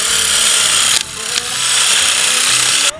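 Power drill bores into a maple tree trunk to set a sap tap, a loud close high-pitched whine running steadily for three seconds with two brief dips in speed.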